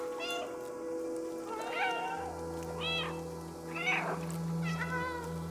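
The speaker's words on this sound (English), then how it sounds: "Now we're all gonna meow forever in eternity." Cats in the video game Stray give several short, clear meows in quick succession over a soft, steady hum of game ambience.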